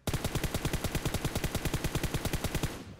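Rapid gunfire from a QBU marksman rifle in the PUBG Mobile video game, a fast, evenly spaced string of loud sharp shots for about three seconds with no talking.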